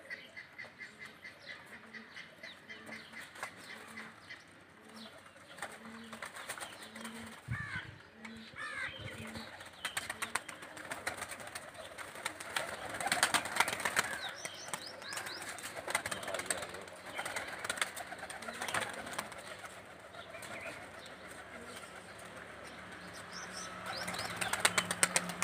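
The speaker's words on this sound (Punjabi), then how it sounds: "ਉੱਡ ਗਏ ਨੇ ਜੀ ਕਬੂਤਰ" Tournament pigeons released outdoors take off, with bird calls and rising flutter of wings through a busy, noisy scene, no talk heard.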